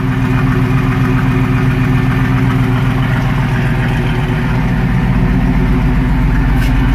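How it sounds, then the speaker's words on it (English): An LS1 V8 in a Cutlass runs with Super Turbo mufflers, a loud, steady, close idle with a deep rumbling, even pulse throughout. "The exhaust on this car is just super turbos."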